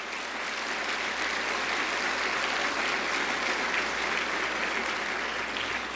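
Sustained, dense applause from a large audience at a formal welcome dinner hosted by Chicago's mayor, a steady roar of many hands clapping throughout with no pauses.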